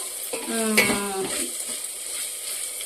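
Onion fries in a pan with ginger-garlic paste and green chillies, giving a quiet sizzle with a short scraping stir and a few utensil clinks, ending in a sharp knock, with no talking.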